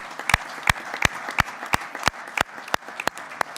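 An audience at a regional council commemoration claps in a loose, uneven rhythm, with a handful of distinct sharp claps standing out over a soft bed of scattered clapping.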